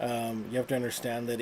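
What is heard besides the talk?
None of the usual background noises is heard.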